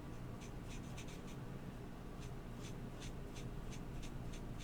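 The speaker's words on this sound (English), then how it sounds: "I'm going to use the brush tip for this, and again, with kind of a light touch, and just kind of fill in around her ears and her face and her body" A brush tip marker applied with a light touch to color in a stamped Christmas mouse image on paper, giving faint, close, repeated soft scratchy strokes over a steady low background hiss.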